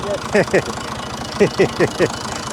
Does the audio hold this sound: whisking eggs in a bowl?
no